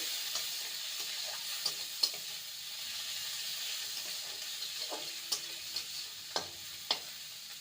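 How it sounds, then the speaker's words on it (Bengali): Chopped medium onion fries lightly in a pan, a soft steady sizzle with occasional louder crackles and stirring clicks, close and alone with no talking. "পেঁয়াজ কুচি হালকা ভেজে নেব"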